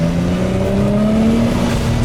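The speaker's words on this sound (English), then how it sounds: "getting completely distracted by a turbocharger in front of me and a massive exhaust behind me" A turbocharged car with a massive exhaust holds a loud, steady engine drone with a slowly rising pitch, close and continuous, with no talking.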